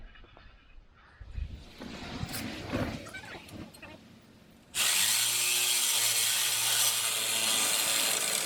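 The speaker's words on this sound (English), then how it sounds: "we have to cut off one of the tubes for the coolant system" A tube for a vehicle's coolant system is cut off, with scattered scraping and tool handling at first, then a loud, steady, hissing power-tool cutting noise that runs continuously to the end.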